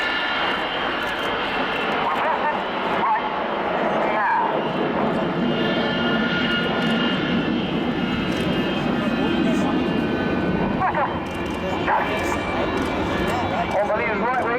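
Red Arrows Hawk jets of the RAF fly past at the RIAT airshow in 2015, a continuous broad jet rumble sweeping overhead while a commentator talks over the public address throughout.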